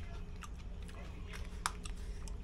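Homemade triggerfish kimchi is chewed close up, with soft wet crunching and mouth sounds over a low background hum, and a brief voice nearby.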